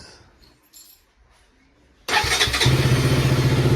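A KTM RC motorcycle with its original exhaust fires up after faint clicks and rustling: the starter catches and the engine bursts into a loud, close, steady idle for the remaining seconds.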